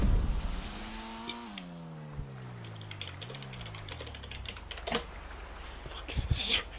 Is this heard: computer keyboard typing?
yes